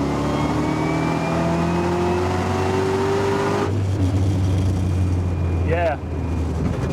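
A 6.0 LSA-swapped F-body car roars under heavy throttle with its tires spinning, the engine note climbing steadily and loudly before a gear change, with voices speaking over the engine.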